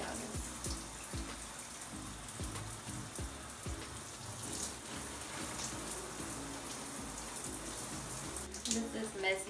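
Water pours and splashes steadily from a shower or tap during a hair wash with Carol's Daughter Goddess Strength shampoo, close and continuous with irregular drips and spatters, and a brief clatter near the end.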